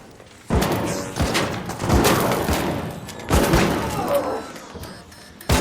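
Arc Raiders gameplay: a loud trigger grenade blast and bursts of gunfire, with heavy thumping impacts around 0.5, 2 and 3.4 seconds amid continuous combat noise.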